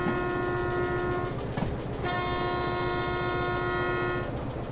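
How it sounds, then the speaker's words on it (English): A steam locomotive horn sounds in a train video game, a long sustained chord-like blast over steady rolling rail rumble, with a brief pause before it resumes and holds for a couple of seconds. "Give it some honk."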